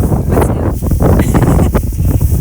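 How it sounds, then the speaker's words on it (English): Strong wind outdoors in a crop field buffets the microphone with a loud, rumbling roar and gusty bursts, steady throughout. "A little bit windy out here, but not too bad."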